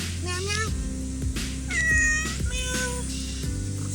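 A cat meows repeatedly near a beach, several rising and falling cries close by, mixed with a voice that imitates the meowing and talks to it gently.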